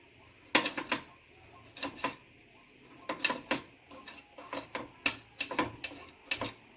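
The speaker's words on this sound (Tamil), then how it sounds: "தக்காளியை நல்லா பொடி பொடி பீஸா கட் பண்ணிக்கலாம்" A knife chopping tomato into small pieces on a board, irregular bursts of sharp close taps in quick clusters separated by short pauses.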